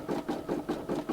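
A Brother SE600 embroidery machine stitches a thick border, giving a steady, rhythmic, mechanical chatter with evenly spaced pulses about five times a second, close and moderately loud.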